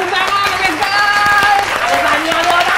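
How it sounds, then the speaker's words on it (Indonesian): Applause at a lively party in a sushi restaurant, dense clapping running steadily throughout with loud music and voices mixed in. "Tepuk tangan guys."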